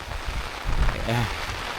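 Heavy rain patters steadily on surfaces during an outdoor walk, a continuous close hiss with a brief voice breaking through near the end.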